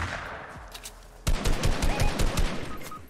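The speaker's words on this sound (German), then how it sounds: "auf wen oder was schießt du?" Gunfire in Fortnite: after a quieter stretch with a few scattered shots, a rapid automatic burst of close, sharp reports sets in and keeps going.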